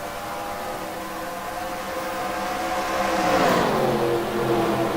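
Stock cars race in a NASCAR video game's Daytona 500, a dense pack of engines droning together at high speed and swelling louder as the bunched field sweeps past.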